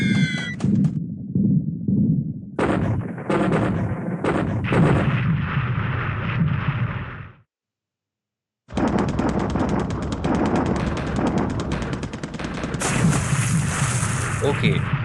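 Bomb and torpedo hits in a World War II Pacific naval strategy game make repeated booming blasts and rattling gunfire-like bursts, with a brief silent gap midway before the loud barrage resumes.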